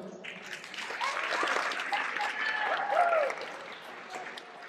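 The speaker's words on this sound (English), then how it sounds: "Give her a round of applause." Audience applause for a student team at a high school arts event, steady clapping that swells and then fades out over several seconds.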